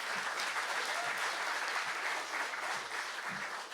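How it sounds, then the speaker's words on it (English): A seated audience applauds a motivational speaker's remark about his marriage, a broad, sustained roar of clapping from many hands that stays steady and fairly distant in a large room. "You guys give me a round of applause for that."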